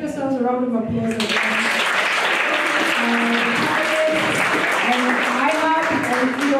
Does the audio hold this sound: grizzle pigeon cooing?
no